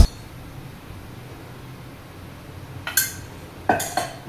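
A pan clanks and clatters a few times on the stove while chana dal roasts in a little oil, with brief metallic knocks over a quiet kitchen hiss.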